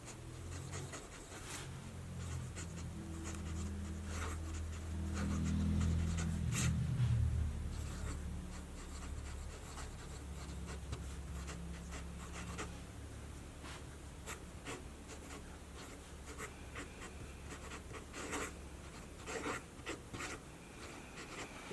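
A Sailor 1911 King of Pen fountain pen with a medium nib scratches softly across paper in steady, faint strokes, with light rustling and handling noise in a quiet room.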